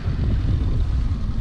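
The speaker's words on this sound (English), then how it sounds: "The wind is very strong." Strong wind blows on open water during spring pike fishing from a boat, a steady, loud low rumble of gusts buffeting the microphone without pause and no voices.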